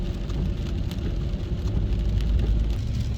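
Steady rain falls during a thunderstorm on a high mountain road along the Beartooth Scenic Byway, a dense continuous patter with a low rumbling undertone, moderately quiet and unbroken, with no voices.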